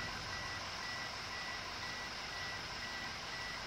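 A car's door-open warning beeps outdoors at night, thin, repeated electronic tones at an even rhythm over steady background hiss, moderately faint.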